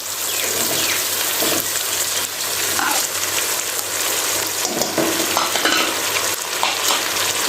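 Chicken fries in a pan with tomato and spices for a biryani, a loud, steady sizzle with crackling and occasional stirring, heard alone without talk.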